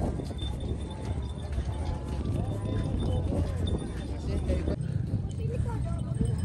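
A horse walks on the way toward Bromo, its hooves clip-clopping in a steady rhythm beside outdoor background noise, while people talk nearby.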